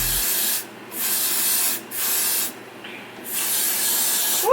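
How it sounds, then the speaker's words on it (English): An aerosol can of freeze spray hisses onto a lace wig at the hairline in several close, loud bursts, each about a second long and separated by short pauses. "So I'm going to take some of my freeze spray."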